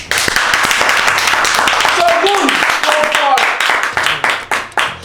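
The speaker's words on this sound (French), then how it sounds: "Ça s'applaudit quand même." Crowd clapping and cheering for an Ivorian artist's gold-record album, dense and sustained, with whistles over it and voices mixed in, thinning toward the end.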